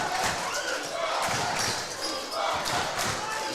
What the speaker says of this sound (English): You hear the crowd in here. It's getting loud